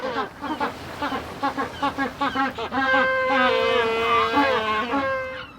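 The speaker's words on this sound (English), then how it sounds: "Some penguins make barking or braying sounds." A penguin gives a loud, nasal braying call, starting as a series of short rhythmic honks and swelling into a sustained, drawn-out bray before trailing off, heard close and alone.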